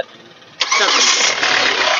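CRDi diesel car engine catching on a single crank: a quiet stretch, then a sudden loud start that settles straight into a steady, close, even idle.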